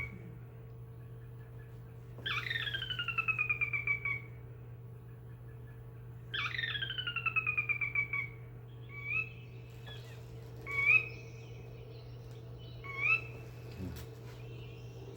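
Recorded bird calls repeat against a steady low hum: two descending, horse-like whinny trills, then several short two-note upward-swooping calls spaced apart.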